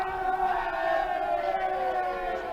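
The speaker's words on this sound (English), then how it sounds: "dugout cheering, doing some stuff in there." Cheering from the Mustangs dugout at a minor-league baseball game in Chillicothe, a sustained, blended crowd-like shouting with a tonal, siren-like edge that holds steady and fairly loud for a few seconds.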